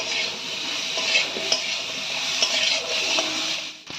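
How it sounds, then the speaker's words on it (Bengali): Pointed gourd and onion frying with turmeric and salt sizzle in a pan, heard close up as a steady crackle with a spoon scraping and clinking against the metal as it stirs. "হলুদ ও নুন মিশিয়ে হালকা করে ভেজেও নিতে হবে।"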